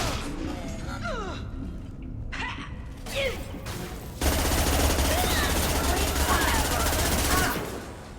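Sci-fi combat gunfire from Mass Effect 2 on Illium, with a sustained, loud burst of automatic fire in the second half after scattered effects and voices, and in-game speech in the first part.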